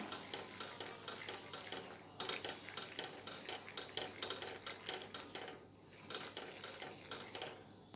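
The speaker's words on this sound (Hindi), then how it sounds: "इसे हम लगातार चलाते हुए इस तरह से अच्छे से भून लेंगे" Peanuts roasting in ghee in a pan, stirred continuously, with a steady dry rustling and scraping and light sizzle that pulses with each stroke, fairly close and alone.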